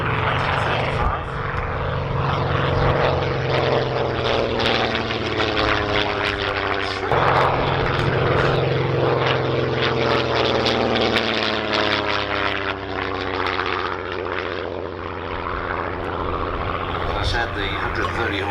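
A 1935 vintage aircraft powered by a 200 hp de Havilland Gipsy Six 1F engine drones steadily and loudly overhead at an airshow, its propeller hum continuous while a commentator talks over it.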